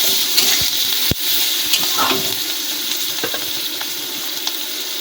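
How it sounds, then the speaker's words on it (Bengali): Chopped onions sizzle in hot oil from an earlier frying step, a steady hiss with a sharp clunk near the start and small stirring clicks and scrapes, with no one talking. "তুলে নেওয়া ওই তেলেতে আমরা কুচানো পেঁয়াজ দিয়ে দেবো দিয়ে একটু নাড়িয়ে নেব"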